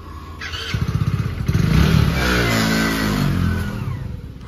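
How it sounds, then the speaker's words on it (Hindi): A motorcycle engine starts up close and revs, the throttle rising to a loud, sustained roar before easing back toward a lumpy idle. "ये देखो बाइक भी रेडी है।"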